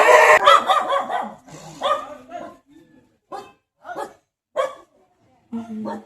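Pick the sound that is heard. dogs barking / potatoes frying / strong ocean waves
dogs barking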